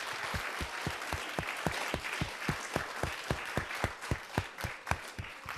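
A crowd applauds LA Galaxy soccer players at a Let's Move! event, a dense wash of applause with a strong rhythmic unison clap beating steadily through it at a fast, even tempo.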